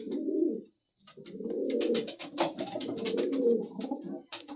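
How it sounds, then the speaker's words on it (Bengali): A male Kaldam pigeon coos up close in low, throaty rolling phrases, with a short gap after the first call and light rustling and clicks underneath. "আর একটা কালদম নর পায়রা আছে।"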